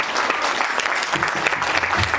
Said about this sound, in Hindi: मैं गड़गड़ाहट चाहूंगी तालियों की हमारे संगीत निर्देशक वीरेंद्र नेगी जी के लिए